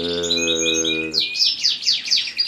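A Malta canary sings at close range, first a steady rich warble of sustained tones, then a rapid series of bright rising chirps and trills, loud and alone.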